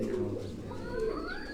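A racing pigeon, a male bird with many hours of flight, coos softly throughout, with faint rising calls of other birds in the background of a loft.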